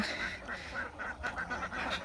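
Domestic ducks quack in a rapid run of nasal calls, faint and somewhat distant, on a cold, foggy village morning.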